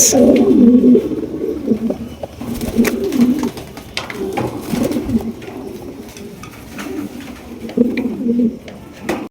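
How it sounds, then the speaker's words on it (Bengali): A pair of red-patti Giribaz pigeons coo in low, throaty, repeated phrases close by, with occasional small clicks and rustles between the calls. "এখানে রয়েছে দর্শক একজোড়া লাল পাত্তি গিরিবাস কবুতর দেখতেই পাচ্ছেন"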